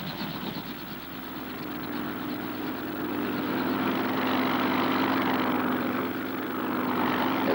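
Patrol plane and helicopter flying over a pre-dawn ocean splash area during recovery operations, a steady droning propeller and engine roar that holds continuously throughout, swelling slightly louder midway.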